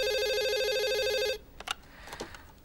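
A telephone rings in an indoor scene, a loud steady electronic trill lasting over a second before it is picked up, followed by soft handling clicks and rustle.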